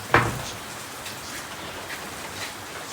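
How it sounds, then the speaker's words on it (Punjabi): Heavy rain pours in a steady, even hiss at a rural pigeon loft, with one sharp knock near the start and no voices. "ਬਾਬੇ ਮੀਂਹ ਬਹੁਤ ਆ ਗਿਆ"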